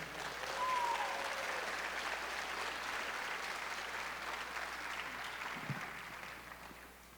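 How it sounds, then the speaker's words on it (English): An audience at a high school commencement ceremony gives a sustained round of applause that slowly fades over several seconds, with a faint voice briefly heard early on. "Let's give Ms. Brandon a round of applause as she comes up"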